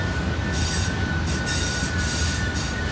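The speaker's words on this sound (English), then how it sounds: "this is a long coal train." A long coal train with pusher locomotives eases downhill on Horseshoe Curve, Pennsylvania, steady rumbling wheels with a sustained high wheel squeal over the cars, continuous and fairly close.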